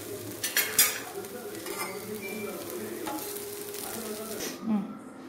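Drumstick-leaf adai dosa, flipped and cooking on a griddle, gives a soft steady sizzle with a few scraping spatula clicks near the start; a bird calls faintly in the background.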